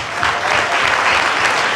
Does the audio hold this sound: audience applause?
yes